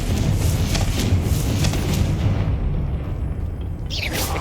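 A Confringo fire spell exploding in Hogwarts Legacy, a loud, dense rumbling blast that fills the scene and then trails off into a fading roar, with a fresh whoosh near the end.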